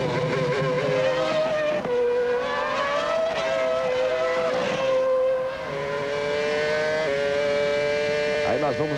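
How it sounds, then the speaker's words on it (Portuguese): Formula 1 cars at the 2007 British Grand Prix, engines screaming and rising in pitch as they accelerate through gears, loud and continuous while a commentator talks over the race. "Felipe Massa vai acelerando, vai dando show"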